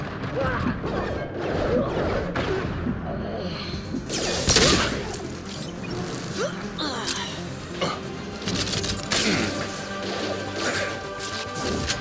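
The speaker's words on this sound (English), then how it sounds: "Nice shooting!" Mass Effect 2 combat rings out with dense gunfire, crashing impacts and whooshing ability effects, a constant loud clatter that sharpens partway through, while voices talk over the battle.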